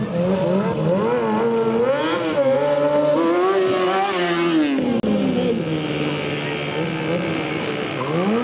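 A two-stroke motorcycle revs at a stunt show with an audience, the engine note rising and falling in wavering sweeps throughout, loud and close, with a person talking over it.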